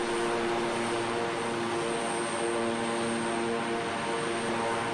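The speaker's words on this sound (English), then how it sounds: "Barry, that Chinook was certainly showing off. Pretty cool, wasn't it? Nearly blew us all over" A Chinook helicopter flies low overhead at an outdoor display, its heavy rotor thud and engine roar loud, steady and close for the whole stretch, with no talking.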